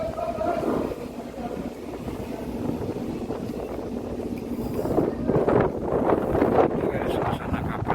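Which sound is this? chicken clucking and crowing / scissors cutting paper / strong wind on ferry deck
strong wind on ferry deck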